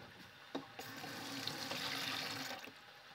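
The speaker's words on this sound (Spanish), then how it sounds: "Pueden utilizar agua caliente para que hierva más rápido." Hot water poured into a pan of cooking rice, a steady splashing, rushing stream that builds after a few clinks and continues alone at moderate volume.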